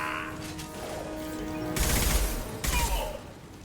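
Gunfire in the video game Mass Effect 2: a low continuous battle din of scattered shots, then two loud bursts of rapid fire, the second brief and slightly quieter, with no talking.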